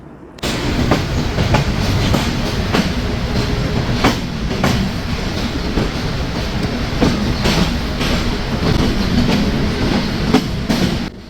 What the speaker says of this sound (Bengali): ট্রেনটি তার নির্ধারিত সময় সাতটা বেজে চল্লিশ মিনিটে রাজশাহী হইতে ঢাকা উদ্দেশ্যে ছেড়ে যাচ্ছে